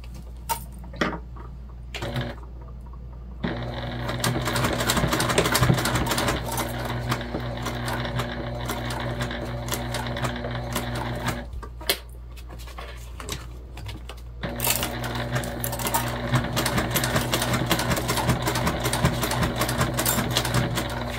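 A sewing machine stitches zipper tape for a mini pack bag at a slow pace, running in steady mechanical bursts with short pauses between runs, fairly close and alone with no talk.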